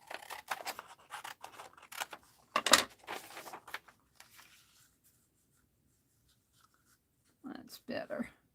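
Scissors trim paper for an art journal, a series of close, crisp snips and rustles in the first half, followed by quiet and a brief burst of handling near the end, with talk in between.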